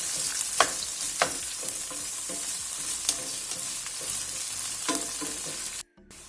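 Chopped garlic, onion and pepper sizzle steadily in hot oil in a pan, with several sharp scraping stirs of a utensil cutting through the constant frying hiss, close and alone, ending abruptly.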